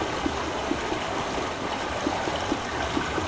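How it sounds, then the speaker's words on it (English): Water flows steadily through pipes in the video game Myst, a continuous even rushing with faint gurgles and no voices. "Pipe water flowing."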